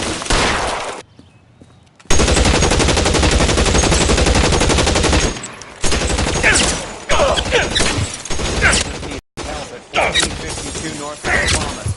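Dense, sustained automatic gunfire in the video game L.A. Noire during a shootout with officers needing help, loud and continuous for several seconds and then broken into shorter bursts.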